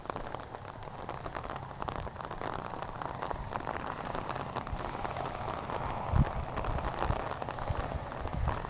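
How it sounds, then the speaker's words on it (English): Light rain falling along the Appalachian Trail on a cold ridge, a dense steady patter of drops on surfaces with a few louder individual hits, close and continuous, with no talk. "a little bit of rain coming down"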